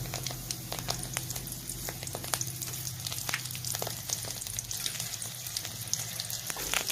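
Hibiscus petals and curry leaves fry in hot oil for a homemade hair-fall remedy oil, giving a steady, dense sizzle with sharp crackles and pops throughout, close and continuous, with no voices.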